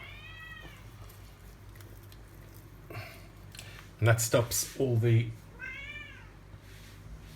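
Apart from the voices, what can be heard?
Nero the cat meowing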